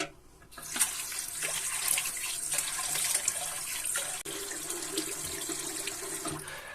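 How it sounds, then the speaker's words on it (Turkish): A face is washed under a running tap, with water streaming steadily into a sink and occasional splashes, starting after a brief quiet moment and continuing close and even. "Şimdi bir yüzümü yıkayacağım"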